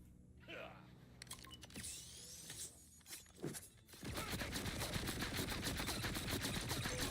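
Rapid bursts of gunfire from a Borderlands 4 video game weapon, scattered shots and effects first, then a long, fast, continuous stream of fire, with someone talking in places.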